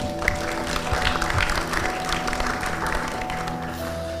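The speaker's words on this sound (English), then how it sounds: "let's give a round of applause for the amazing panelists." Audience applause for panelists at an international symposium on sustainable building, cities and communities, a steady, moderate round of clapping from a hall crowd over a constant background hum, fading slightly near the end.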